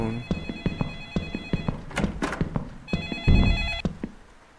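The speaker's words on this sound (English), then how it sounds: "We're going to go answer the phone." A video game telephone rings in several bright electronic bursts, near and fairly clear, with a few soft footstep-like thumps and a short rustling noise between rings.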